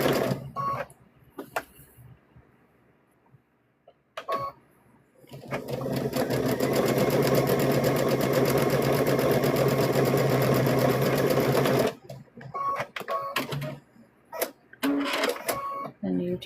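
A sewing machine stitching fabric for a stuffed bear runs in one long steady whirring burst of about six seconds, close and loud, with a voice talking before and after and handling clicks around it.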